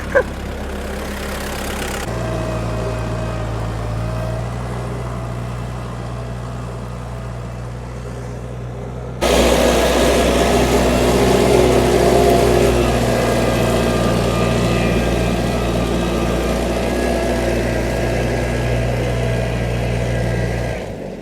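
A DTZ 5404 tractor pulling a two-furrow plough through heavy clay soil, a steady diesel drone that jumps abruptly louder partway through and then holds a strong, even labouring note.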